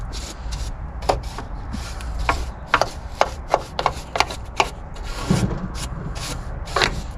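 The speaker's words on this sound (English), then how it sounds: "Brush away all the loose rust" A wire brush scrubs loose rust off the driver's side step of a Rover P4: a series of sharp, close scraping strokes in an irregular rhythm over a faint background hum.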